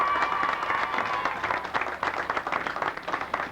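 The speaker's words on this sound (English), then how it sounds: "Give them all a nice round of applause." Crowd claps at a festival opening parade in 1996, the applause building into steady, uneven clatter from many hands at moderate distance.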